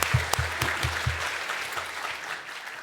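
A church congregation claps during Sunday worship, starting with a burst of fairly rhythmic clapping that settles into steady, full-room applause and gradually thins out.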